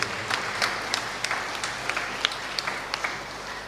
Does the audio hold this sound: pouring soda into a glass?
no